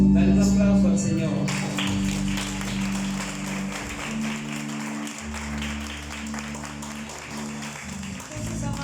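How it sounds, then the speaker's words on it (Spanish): A church congregation breaks into applause during a Spanish-language service, the clapping heard as a steady broadband patter beneath loud, sustained low musical tones and a voice. "Dale un aplauso al Señor."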